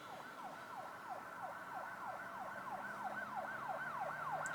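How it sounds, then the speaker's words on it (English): Police car sirens wail steadily in the distance, a fast rising-and-falling yelp repeating over a low hum of traffic, faint and alone without talking. "Can you hear the police sirens?"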